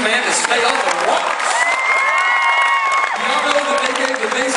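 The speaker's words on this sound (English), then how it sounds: "Why don't we give a round of applause to the incredible troops" Crowd applause with cheering and whoops from an audience at a back-to-school bash held at a venue called the basement, steady and dense throughout, with some shouting voices mixed in.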